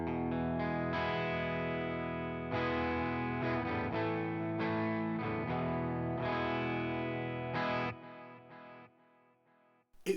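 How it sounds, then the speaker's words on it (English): Electric guitar through the JFET boost mode of a Strymon Sunset pedal, chords and melodic phrases with slightly driven, thicker sustain, played alone at steady level before fading out. "And now with the JFET boost."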